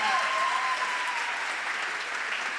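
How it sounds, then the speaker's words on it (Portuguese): A church congregation applauds steadily throughout, a dense, even wash of clapping with a faint sustained tone drifting in early on. "Aplauda Ele com alegria."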